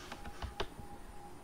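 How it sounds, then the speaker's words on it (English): Keys tapped on a computer keyboard while a program is typed into a new file, several quiet, irregular clicks with a steady faint hum underneath and no talking. "here I am typing the program"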